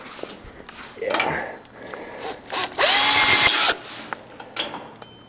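A power drill drives a self-drilling screw into a utility trailer in one loud, close whirring burst of about a second, after scattered handling clicks and brief talk.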